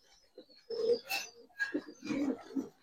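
Pigeons of the Giribaz fancy breed cooing softly up close, several throaty coos in a row with some light rustling and no talk.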